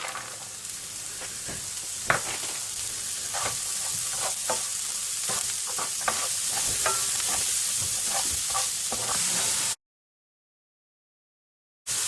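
Steady, dense sizzling of spices and frozen pieces frying in a pan, with scattered clicks and scrapes of stirring; the sound cuts out briefly near the end.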